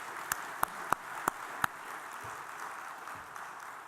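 Five sharp, evenly spaced hand claps ring out at a lecture session, then give way to a faint, hushed wash of room noise with no further clapping.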